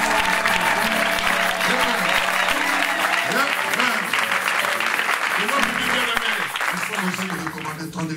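A church congregation applauding during worship, with dense sustained clapping throughout, loud and close, as a voice rises and falls over it and the crowd's sound fades slightly at the end.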